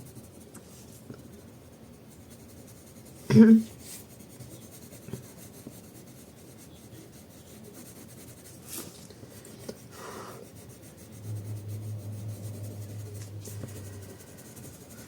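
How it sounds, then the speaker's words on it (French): A Faber-Castell Polychromos colored pencil shades a dark layer on Castel Art paper, giving soft, faint scratchy rubbing strokes, up close and quiet, with one brief louder knock. "je reprends la couleur la plus foncée et je repasse une couche"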